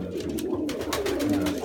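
A domestic pigeon coos in low, soft rolling notes, close and steady, against a dense background of other bird sounds.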